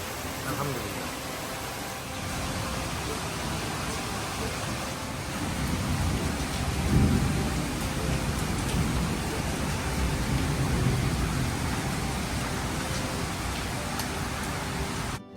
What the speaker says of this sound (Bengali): ঝড়ো বাতাস শেষে শুরু হলো তুমুল বজ্রপাত আর বৃষ্টি।